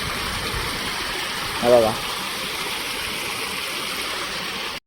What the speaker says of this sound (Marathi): हा पाण्याचा प्रेशर येतो ना, तर या प्रेशरने मासे चढतात पटकन.